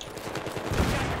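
Rapid gunfire rattles in Battlefield 3 on Xbox, a dense, continuous burst of shots with a heavier blast near the end, loud and without speech.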